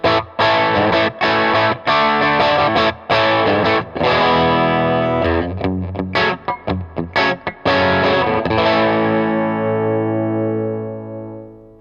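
A Fender American Professional Classic Stratocaster electric guitar played through the bridge pickup with the tone rolled back slightly, strummed chords with sharp stops, ringing out into a long decaying final chord.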